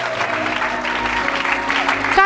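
A church congregation applauds and cheers at a Christmas service, a sustained dense wash of clapping with voices mixed in, loud and steady throughout, swelling slightly at the end.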